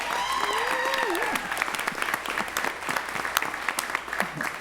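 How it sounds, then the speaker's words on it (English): A crowd at a school board meeting applauds with steady, scattered clapping, while a voice briefly speaks over the start. "Let's give him a huge round of applause."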